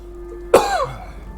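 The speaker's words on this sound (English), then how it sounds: "Apologize for the coughing." A single sharp cough, close and sudden, against a quiet background.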